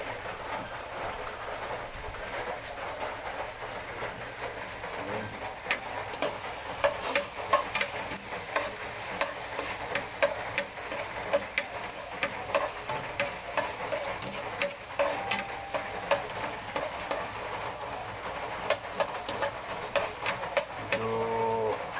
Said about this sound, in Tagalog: So, magigisa na po tayo ng mga rekado ho natin. Ito, unahin ho yung luya.